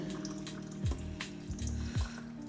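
Water poured over broccoli microgreens in a tray, a soft steady trickle with a few drips and splashes, faint and close.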